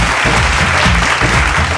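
A television talent-show audience breaks into loud, continuous applause welcoming Vikas Tiwari from Buxar, Bihar, onto the stage of a Bhojpuri singing competition, a dense steady wash of clapping throughout.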